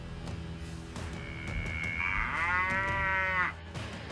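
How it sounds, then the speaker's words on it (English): One long, drawn-out cow moo sounds nearby, swelling in the middle before cutting off, with quiet background noise around it. "Cow."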